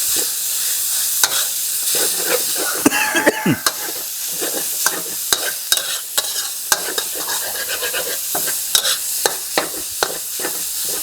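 Minced pork stir-fries in a hot pan for a Thai basil dish, with a continuous close sizzle and repeated scraping and clacking strokes from the spatula in an uneven rhythm.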